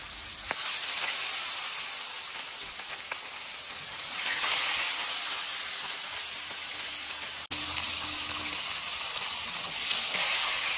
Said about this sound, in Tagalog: iprito mo na yung tilapia.